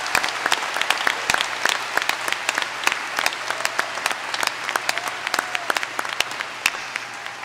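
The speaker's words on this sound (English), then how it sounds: "Let's give one more round of applause to the doctors." A large audience applauds new doctoral graduates at a 2015 spring commencement ceremony, producing sustained, dense clapping with distinct sharp claps standing out nearby and a low steady hum beneath.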